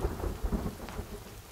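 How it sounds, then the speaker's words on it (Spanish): Rain and a low rolling rumble of thunder in The Forest, alpha 0.06, with a steady hiss of falling rain and deep thudding swells underneath, moderately faint and without talk. "Pues ya empieza la lluvia. No podía faltar la lluvia en este juego"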